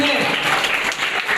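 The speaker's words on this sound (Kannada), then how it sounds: "ಅವರಿಗೆ ನಿಮ್ಮ ಜೋರಾದ ಚಪ್ಪಾಳೆ ಮೂಲಕ ಅಭಿನಂದನೆ." An audience at a school leadership camp event in Davanagere claps steadily and loudly in sustained applause, continuous throughout with some voices mixed in.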